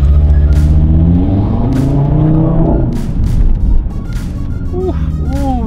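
An Audi TT RS sports car engine drones and revs steadily up close, with a rising whine near the end as it accelerates; voices chatter faintly underneath.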